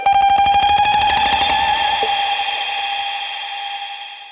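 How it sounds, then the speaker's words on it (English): A guitar chord rings through a Boss RV-200 reverb pedal set to lo-fi mode, loud and bright at first, with a warbling, gritty tail that slowly fades over several seconds. "That's the lo-fi sound"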